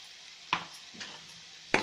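A spoon stirs fish curry with spices in a pan, giving a few soft scraping strokes spaced apart over a faint steady background hiss.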